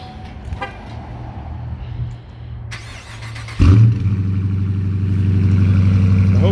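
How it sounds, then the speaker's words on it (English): A bone-stock 2020 Dodge Charger R/T with the 5.7 HEMI V8 cold-starting: a brief starter whir, then a sudden loud catch that settles into a deep, steady, rumbling idle recorded up close. "here is a good old cold start in the bone stock 2020 Dodge Charger RT."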